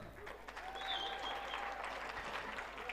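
A live audience at a stage event claps in a steady, even wash that stays fairly faint and distant, with a thin whistle-like tone drifting over the middle.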